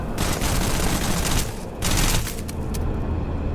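A gun in the video game Starfield fires rapid continuous bursts, loud and dense, with a brief pause before the firing resumes and then tapers.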